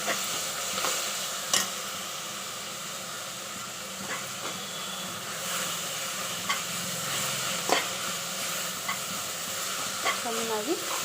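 Garlic paste sizzles in a hot pan while a spoon stirs it, a steady frying hiss punctuated by sharp scrapes and clinks of utensil against metal, close and fairly quiet.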